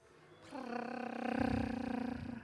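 A voice imitates a cat's purr, a low rumbling, fluttering drone that swells and holds for about two seconds.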